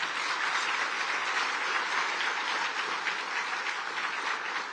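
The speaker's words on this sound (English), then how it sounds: "so give that a round of applause" Listeners at a New York State affordable housing gathering applaud during the governor's keynote. The clapping is soft, even and continuous, sounding somewhat distant, with no talking.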